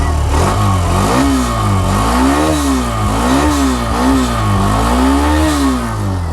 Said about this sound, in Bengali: আচ্ছা একটু থ্রোডল দিয়ে দেখি ক্যামেরার মাইক্রোফোনে শুনতেছেন যদিও আপনারা